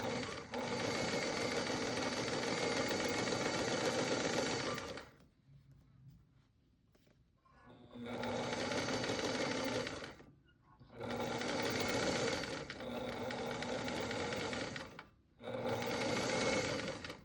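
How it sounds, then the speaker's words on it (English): A sewing machine stitches the sleeve of a balloon-sleeve blouse in four steady runs of close, loud whirring, with short pauses between the bursts of stitching and no talking. "just sewing about 1 inch at a time"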